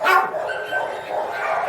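Several puppies bark and yip close by during a visit to pick out a new puppy, with high excited yelps layered over a busy indoor background.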